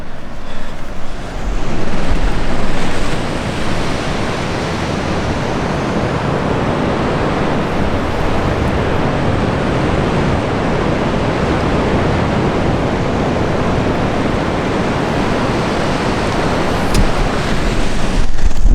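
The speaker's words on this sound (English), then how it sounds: "And just listening to the ocean." Ocean surf rolls continuously onto a beach at night, a steady broad wash of breaking waves with a slightly louder surge near the start and end, heard alone with no talking.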